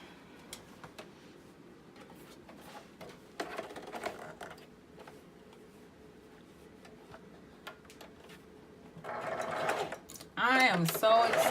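A sewing machine back stitches the seam of a tube dress, with light mechanical ticking and brief whirs that swell into a louder, faster run near the end. A voice is heard at times.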